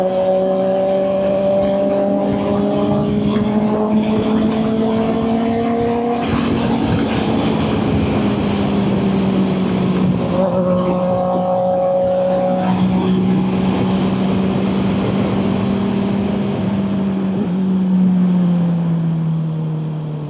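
A Kawasaki ZX-10R sport bike engine drones loud and close while being ridden at moderate revs, its tone rising and easing through gear changes with constant wind and road rush underneath.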